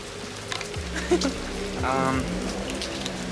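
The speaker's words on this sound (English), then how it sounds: "we tried walking and we got caught in the rain" Rain falls steadily outdoors while people are out walking and get caught in it, a continuous hiss of drops with some brief low background sounds mixed in.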